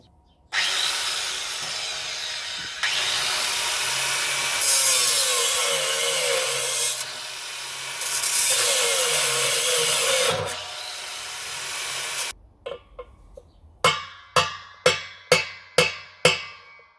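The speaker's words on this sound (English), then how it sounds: "I might try the grinder first" A loud, harsh angle grinder screech cutting the metal of a heavy-duty vintage washing machine runs continuously for about twelve seconds, rising and falling in pitch, followed by a series of sharp metallic knocks.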